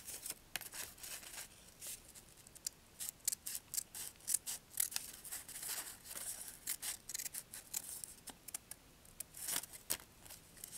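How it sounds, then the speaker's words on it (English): Scissors cutting through a paper tulip sleeve pattern, a close, quiet series of crisp snips and slicing rasps in irregular bursts. "And now I will cut from the center till point B."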